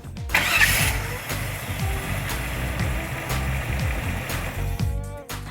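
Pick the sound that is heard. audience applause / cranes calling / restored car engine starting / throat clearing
restored car engine starting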